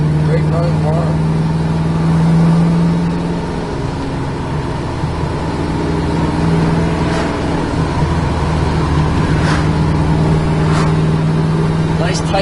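A 1969 Chevrolet Camaro cruises with a steady, smooth engine drone and low road rumble throughout, with someone talking over it.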